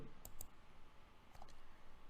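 A few quiet computer mouse clicks, two close together and then two more a second later, come from selecting a new table in Power BI on a desktop computer.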